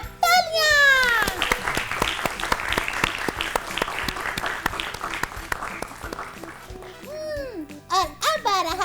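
Loud applause greets a correct answer on a children's quiz show about substance abuse awareness, with bright musical jingle tones sweeping over the clapping, then the clapping fades as short musical stings and children's voices take over.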